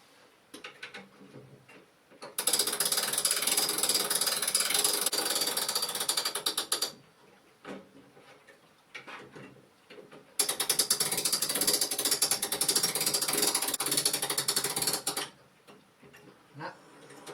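A small key winds a clock, producing two long bursts of rapid ratcheting clicks, each lasting several seconds, close and fairly loud with quiet handling sounds between.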